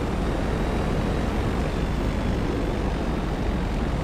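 A propeller aircraft in GTA Online drones steadily and loudly close by, a continuous broadband engine roar with no breaks or voices.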